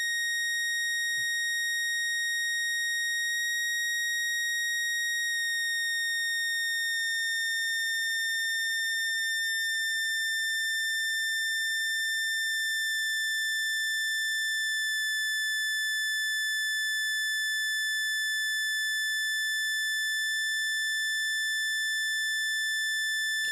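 Behringer Model D synthesizer oscillator holding a steady, pure sustained tone during tuning of the oscillator range, clean and constant with a faint click near the start and no voices.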